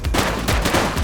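Rapid gunfire from a shooter in The Precinct, a police action video game, a dense burst of shots that fills the whole moment with no pauses.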